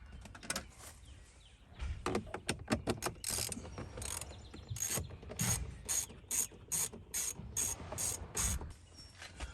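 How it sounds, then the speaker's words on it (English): A ratcheting driver backs out interior door panel screws on a 2018 Chevrolet Silverado 1500, giving quick bursts of close, clicking pawl ticks in uneven runs separated by short pauses. "So once you get this screw out"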